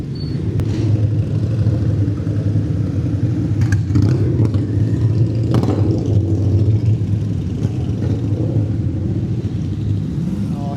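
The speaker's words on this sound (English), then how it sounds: "Oh, here come some of the Harleys." Harley-Davidson motorcycles pass close by in a group ride through London, a steady loud engine rumble with revving swells running the whole time and no talk.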